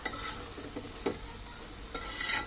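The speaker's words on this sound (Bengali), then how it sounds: "এটাকে এখন ভালোভাবে নেড়ে দিচ্ছি।" Potato bhaji with cumin and coriander leaves frying in a pan, a soft continuous sizzle broken by a few sharp scrapes of a spatula stirring it.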